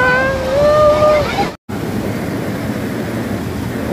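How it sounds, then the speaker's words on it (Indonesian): A flash flood at Sembahe near Berastagi, North Sumatra, surges as a loud, steady roar of rushing water, close and constant, with a brief dropout and a faint voice near the start. "Untuk arus sangat deras. Sembahe banjir bandang."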